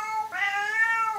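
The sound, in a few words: pet cat Chester meowing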